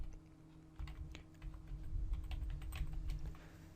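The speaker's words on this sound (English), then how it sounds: "simply type in a new name here" Quiet keystrokes tap out a name on a computer keyboard, a quick irregular run of soft clicks over a low steady hum, with no one speaking.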